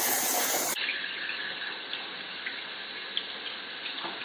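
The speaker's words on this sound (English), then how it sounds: "Rinse hands." A kitchen or bathroom tap runs steadily while hands are rinsed under it, a close, even hiss of flowing water with a brighter rush at the very start.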